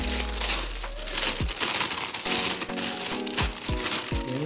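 A plastic seasoning bag is crinkled and handled up close for several seconds, giving loud, continuous rustling with a few sharper crackles, with no talking.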